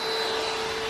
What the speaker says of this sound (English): vacuuming, hoovering, whatever you call it.